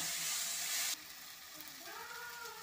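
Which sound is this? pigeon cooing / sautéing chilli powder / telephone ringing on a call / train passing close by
sautéing chilli powder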